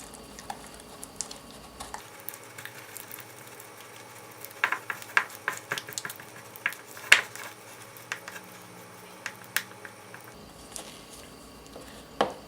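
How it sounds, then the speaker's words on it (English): Silicone is stirred with food coloring, a soft wet squishing and patter with irregular sticky clicks and smacks from the mixing, close up with no talking. "mix the silicone and the food coloring until it's completely blended together"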